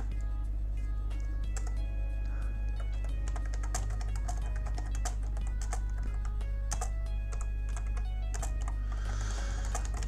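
Computer keyboard typing during an online chat while playing Digimon Masters Online, heard as rapid, uneven clusters of close key clicks over a steady low hum, with brief pauses between bursts.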